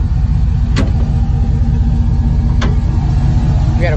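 Running 4.8-litre V8 in a 2008 Chevy Silverado pickup, heard up close with a steady loud drone and rumble, plus two brief sharp clicks over the continuous engine noise.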